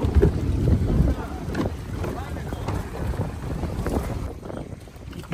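A boat heads out from Banana Beach, Phuket, with a loud, continuous engine drone and rushing water, churned by strong wind buffeting throughout.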